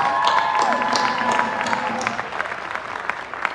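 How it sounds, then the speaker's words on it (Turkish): Concert audience applauding, a dense steady wash of clapping with some cheering, while faint sustained tones and a voice sit underneath. "Bir de bir moral alkışı isterseniz Farzat için."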